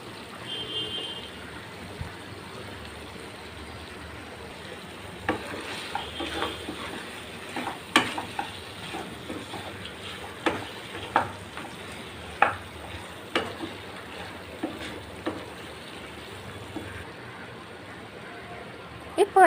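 Chicken fry with pepper powder is being stirred in a pan, giving a soft, steady sizzle broken by irregular scraping clicks and taps of the spoon against the vessel.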